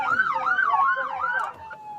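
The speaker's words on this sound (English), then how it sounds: "Turn them sirens off." Police car siren wails close and loud, sweeping up and down in a repeating yelp before settling into a steady tone.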